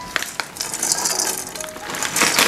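Ice cubes in a homemade artificial snow mixture of milk and water crackle and rattle up close, a busy, grainy clatter that builds toward the end.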